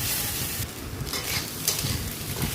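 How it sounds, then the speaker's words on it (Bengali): An egg frying in a pan for chowmein, a moderate sizzle broken by scraping, stirring clatter against the pan, close and with no talking. "আর এখানে আমি ডিমটাকেও ভেজে নেব ভালো করে"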